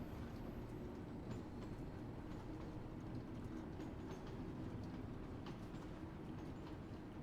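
A train rolls steadily along rails near Stonebridge Park in Train Sim World 2, a continuous low rumble with faint wheel clatter, fairly quiet and with no talk.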